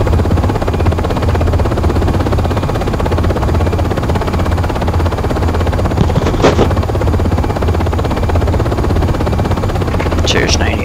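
A UH-60M helicopter climbing in Aerofly FS 4 gives a loud, continuous rotor thrum and engine roar, dense and steady, with a couple of brief higher chirps near the end.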